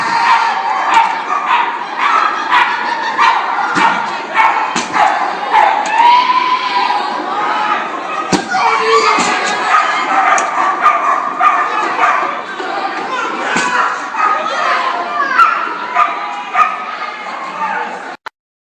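Many dogs barking, yipping and whining excitedly over a noisy indoor crowd at a flyball tournament, with cheering and shouting voices mixed throughout.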